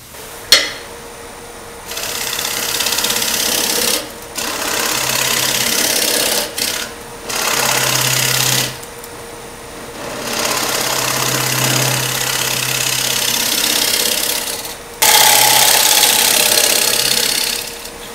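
On a lathe, a negative rake scraper cuts a green natural edge ash bowl, making repeated rasping, hissing scrapes in bursts of a few seconds over the lathe's low steady hum, close and loud with no talking.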